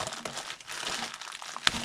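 Paper from a thrift store crinkles and rustles close up, a continuous run of soft crumpling handling with a sharper crackle near the end.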